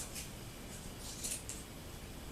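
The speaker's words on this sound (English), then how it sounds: "Now you take your scissors and you just cut the loops" Scissors snip through the yarn loops of a handmade pom-pom in a quick series of crisp, close cuts, separated by brief pauses, with no talking.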